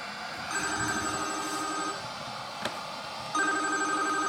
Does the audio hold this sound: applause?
no